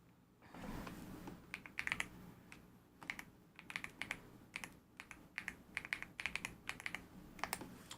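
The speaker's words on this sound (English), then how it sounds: "Literally just typing in my website because I'm too lazy to wait for the thing to load" A website address typed on a computer keyboard, a fairly quiet close run of irregular key clicks in short bursts over low background noise.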